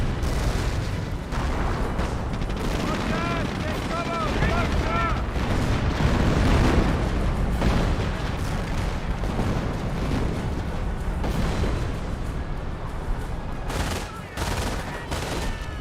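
Werfer rocket barrage in the video game Company of Heroes: a dense, continuous roar of launches and explosions runs the whole way, rumbling and crackling without pause, with voices talking faintly underneath.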